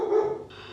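A single close dog bark or yip cuts in abruptly, a short tonal burst that fades within a second, heard indoors.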